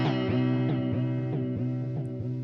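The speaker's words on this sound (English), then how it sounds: "you'll hear this shift effect again" A sustained guitar note pulses with a rhythmic, swung flanging sweep from a Chase Bliss Audio Spectre through-zero flanger pedal's shift effect, the tone repeatedly dipping and rising in a jet-like whoosh.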